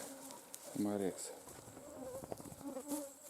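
A small insect buzzes close by in a short whine, with faint outdoor background noise and scattered rustles around it.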